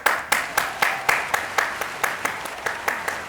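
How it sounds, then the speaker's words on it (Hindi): Judges on a TV drama-review show clap in a crisp, even rhythm of about a dozen claps, close and fairly loud, with some talk in the background. "नादिया ने स्पेशल 4 तालियां बजाई।"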